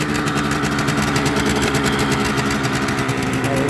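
Suzuki GT125L two-stroke motorcycle engine idling cold with the choke on, a loud, close, steady burbling drone with a fast even pulse and no voices.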